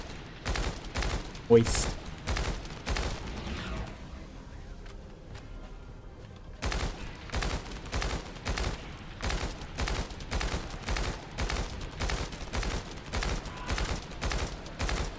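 Gunfire from the video game The First Descendant rattles in rapid, evenly spaced bursts, pausing briefly before resuming steadily, with a person talking over it.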